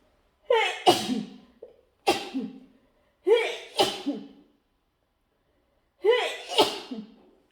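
Several sharp sneezes burst out in quick clusters separated by silence, close and loud, each with a sudden intake and forceful release.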